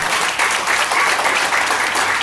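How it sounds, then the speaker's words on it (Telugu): An audience gives a sustained round of applause, dense loud clapping throughout with no break and no clear speech. "ఒకసారి మీరు గ్రేట్ రౌండ్ ఆఫ్ అప్లాస్ వీళ్ళ గురించి ఇవ్వాలి"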